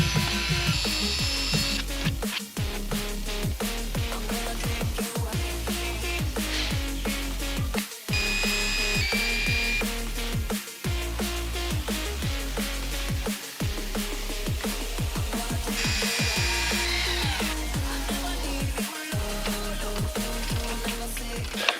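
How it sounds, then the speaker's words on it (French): A power drill bores holes for angle brackets on a solar panel during a van conversion, grinding loudly and nearly continuously with short pauses between holes. "je vais refaire des trous et puis alors je vais fixer du coup les cornières"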